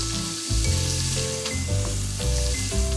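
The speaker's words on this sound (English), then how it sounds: "In a large skillet on medium heat, melt some butter. Cook the onion and the garlic cloves for 2 minutes." Onion and garlic cloves fry in melted butter in a large skillet over medium heat, a loud, close, continuous sizzle with a low steady hum beneath it and no voices.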